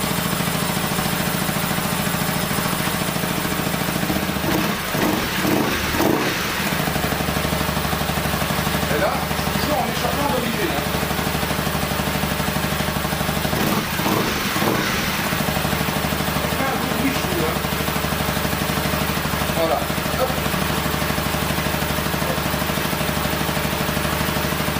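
A 2012 Honda CBR 250 R motorcycle engine running after starting, a steady close idle rumble with a few faint revving swells, continuous throughout with talk faintly beneath.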